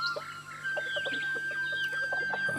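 Several backyard chickens, two-to-three-month-old young birds and eleven-month-old roosters, cluck in short, scattered bursts close by, with a steady high tone running underneath and no talking.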